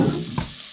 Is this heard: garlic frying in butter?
yes